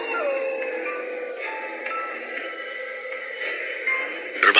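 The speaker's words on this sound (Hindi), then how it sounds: "कुत्ते रोने लगे।" Dogs howl in a drawn-out, mournful chorus inside a horror audio drama, long wavering tones layered over an eerie ambience that swells with a harsh burst at the end.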